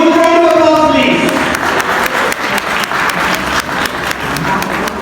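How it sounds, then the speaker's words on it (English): Loud audience applause at a college annual investiture ceremony, as a shield is presented to the principal. A sustained, dense crowd of clapping follows a brief tonal sound at the start. "Give a huge round of applause, please."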